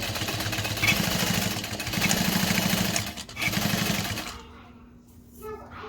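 A sewing machine stitches a backpack in three quick bursts of rapid, rhythmic needle chatter, with short pauses between runs, then stops and leaves a quiet hum.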